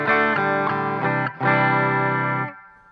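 Distorted electric guitar through an EVH 5150 Iconic amp with the bass control turned off, several loud sustained chords strummed in sequence with a brief gap, ringing out and fading at the end, no voices.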